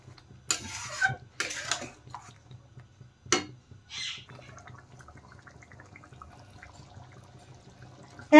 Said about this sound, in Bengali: এখন একটু নেড়ে চেড়ে ভালো করে ফুটিয়ে নেব।